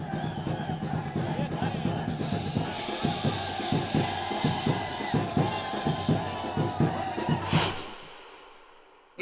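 A large crowd of party workers gathers outside a political leader's residence in Mumbai, a dense, loud roar of voices with rhythmic chanting or clapping pulses through the middle before it cuts off.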